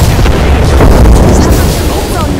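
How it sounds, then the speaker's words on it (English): A grenade goes off in the battle royale shooter Apex Legends, a loud, broad rumbling blast filling most of the moment and then tailing off. "Grenade, watch out"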